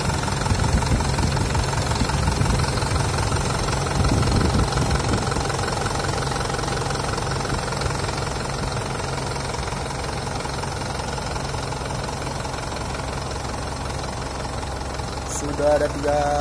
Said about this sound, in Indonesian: ini adalah suara dari mesin Hino Dutro yang terbaru